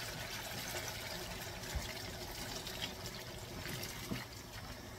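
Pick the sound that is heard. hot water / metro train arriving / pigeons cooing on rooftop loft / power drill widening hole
hot water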